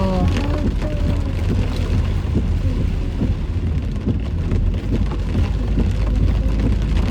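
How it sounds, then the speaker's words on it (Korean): Heavy rain pours down hard outside a car with the wipers on full, a loud dense roar of drops drumming steadily on the roof and glass throughout. "와, 비가 진짜 진짜 많이 온다."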